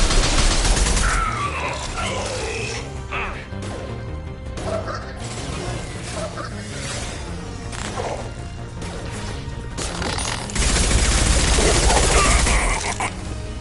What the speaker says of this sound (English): Firing a high-impact shot.